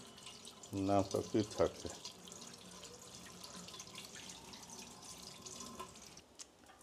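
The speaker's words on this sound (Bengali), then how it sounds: "ডিম ধুয়ে দিই, প্রত্যেকটা ডিম ধুয়ে নেওয়া উচিত" Eggs are rinsed one by one under a running kitchen tap, a soft steady trickle of water that continues throughout, with a short burst of speech near the start.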